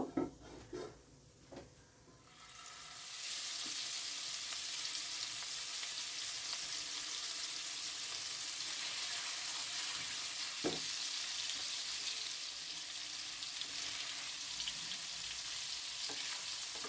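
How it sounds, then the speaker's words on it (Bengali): Pieces of paneer fry in a little white oil in a kadai, a steady bright sizzle that starts abruptly after a few soft clinks and holds evenly, close and alone. "কড়াতে আমি অল্প তেল দিয়ে দিলাম সাদা তেল এবার আমি এই পনিরের টুকরোগুলোকে হালকা করে একটু"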